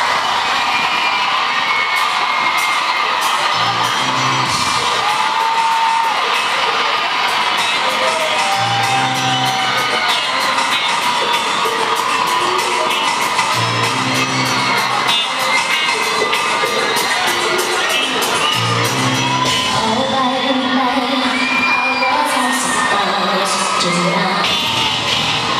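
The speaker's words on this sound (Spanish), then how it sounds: "Fuerte el aplauso para recibir a la estupenda Katico." A studio audience cheers, whoops and claps loudly to welcome a performer on a game show, a continuous wall of crowd noise with shouts and rhythmic clapping throughout.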